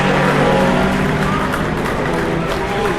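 An Audi LMP1 prototype race car roars past at an endurance race, a loud, dense engine drone filling a few seconds, with a faint crowd behind and a commentator speaking.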